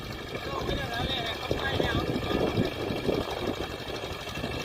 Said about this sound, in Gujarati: સનેડો 10:30નું એન્જિન છે